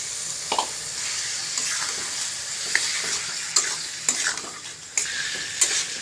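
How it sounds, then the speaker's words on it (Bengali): Chicken pieces fry with turmeric, chilli and cumin powder while being stirred in a pan: a steady sizzle runs underneath, with repeated scraping strokes of the spoon against the pan. "চিকেনটা ভালো করে কষিয়ে থাকবো পাঁচ দশ মিনিট মতো"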